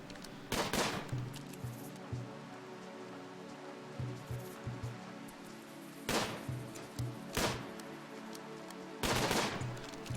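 Colonists firing at an iguana from a barricade in Rimworld, sharp bursts of game gunfire arriving in clusters of cracks over a faint steady background hiss.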